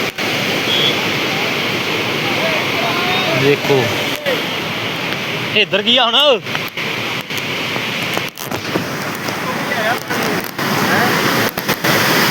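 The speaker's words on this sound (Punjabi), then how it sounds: "ਆ ਦੇਖ ਲਓ ਬਾਈ ਪਾਣੀ ਕਿਵੇਂ ਜਾਂਦਾ ਛੱਲਾ ਮਾਰਦਾ ਬੜਾ ਜ਼ਿਆਦਾ ਪਾਣੀ ਆ" A flooded river rushes past with waves, a loud, continuous roar of churning water close by, while someone talks over it in bursts.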